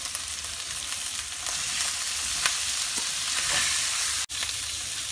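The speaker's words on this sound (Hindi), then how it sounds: "2 मिनट फ्राई कर लेंगे इसको।" Potatoes and spinach frying with spices in a pan, a steady close sizzle with faint stirring scrapes and one brief dropout near the end, no voices.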